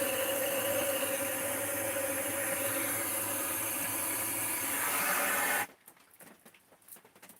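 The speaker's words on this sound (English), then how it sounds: "We'll just hit the propane torch in the stove with that" Loud, steady propane torch hiss roaring into a TLUD cylinder stove on a cold, rainy day, holding constant for several seconds before cutting off abruptly, leaving faint scattered background sounds.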